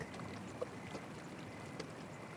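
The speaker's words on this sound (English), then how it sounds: "They followed the sounds of the babbling brook." A babbling brook flows as a faint, steady wash of water with soft trickling texture and no voices, heard alone at low level throughout.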